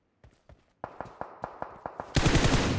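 Gunfire in the PUBG video game: a run of sharp, evenly spaced shots that speeds into a dense, loud burst of automatic fire, with no talking over it.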